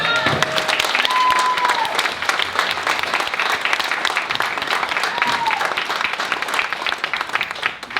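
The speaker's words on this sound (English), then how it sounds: "everybody, round of applause for these guys" Crowd at the Free Play Florida 2016 arcade gaming event gives a loud round of applause, dense continuous clapping with a few whoops and cheers mixed in, sustained at a steady level throughout.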